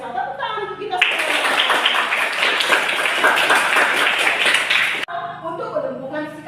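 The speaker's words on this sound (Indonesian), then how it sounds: "Tepuk tangan untuk kita semua." A class of third-grade schoolchildren bursts into dense, energetic hand clapping, a steady wall of applause lasting about four seconds, with a teacher's voice speaking just before and after.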